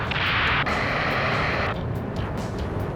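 A rocket explodes in the Ace Combat 7 flight game, a loud roaring blast that swells, then drops to a lower, rumbling tail.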